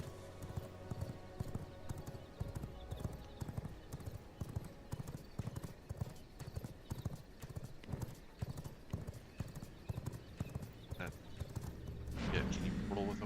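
Horse hooves clip-clop in a steady galloping rhythm in the vampire survival game V Rising, close and continuous for the whole stretch, with a brief neigh-like burst of noise near the end.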